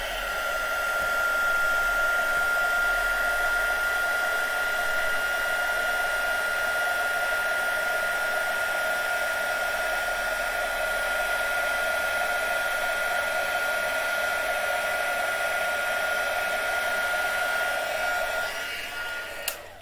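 A heat tool blows steadily for about twenty seconds to melt embossing powder on a stamped image, a constant close whirring hiss with a high fan whine that cuts off at the end.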